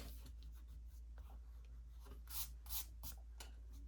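Eraser rubbing across a paper drawing in short, quick back-and-forth bursts, close and quiet over a low steady hum.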